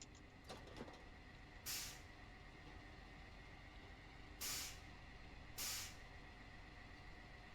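Air brakes on a heavy truck in SnowRunner release three times as short, bright hisses over a steady low engine rumble, with no voices.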